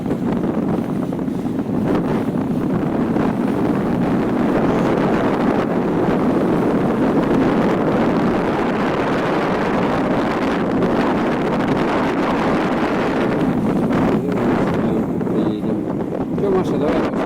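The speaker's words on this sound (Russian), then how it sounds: "Ветер здесь, ветер." Steady wind buffeting the microphone with a low, rumbling roar at Lake Baikal near Listvyanka, constant and loud throughout, with faint voices in the background.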